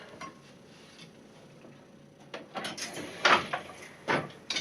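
Wooden clacks and knocks of a weaving loom as a treadle is pressed to open the shed, quiet at first and then several close, sharp bumps in quick succession near the end.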